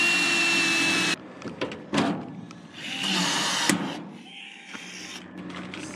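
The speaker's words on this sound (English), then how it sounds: "So all we have to do is just drill the holes and then rivet it in." A power drill bores holes in a 20-foot steel shipping container for riveted windows. A loud continuous whine cuts off abruptly, and shorter drilling bursts and clanks follow in an uneven rhythm at close range.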